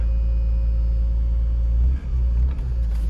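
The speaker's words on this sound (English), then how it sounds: "I'm getting a pretty cool buzz from my fuel pump" Fuel pump in a BMW E46 M3 buzzes as a steady, thin electrical tone over a low mechanical rumble, with a couple of brief dips near the end.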